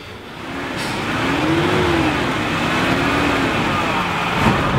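A 4x4's engine hums steadily while driving on a road in India, rising and easing in pitch as it accelerates, loud and close throughout.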